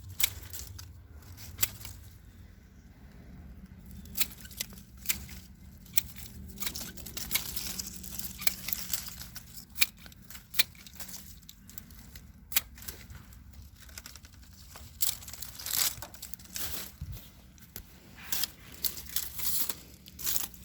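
Dull scissors snip through autumn hardy hibiscus stems in a garden, giving a long run of crisp, irregular clicks and cuts with leafy rustling in between, close and moderately quiet.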